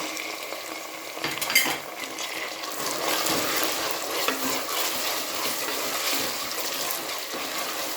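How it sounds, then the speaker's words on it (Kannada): Carrots and peas fry in a pan for a vegetable khushka, with a steady close sizzle and occasional utensil scrapes as the mix is stirred, no voices present. "ಒಂದು 2 ನಿಮಿಷ ಫ್ರೈ ಮಾಡ್ಕೊಳ್ಳೋಣ."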